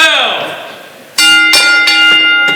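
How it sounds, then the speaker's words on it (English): Wrestling ring bell struck several times in quick succession to start a match at a dojo wrestling show, bright ringing clangs that follow a loud, fading crowd or announcer sound. "Ring a bell!"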